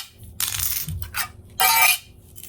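Replacement phone back glass tapped in a few short bursts, with bright clicky hits clustered near the microphone and brief gaps between them, no talking.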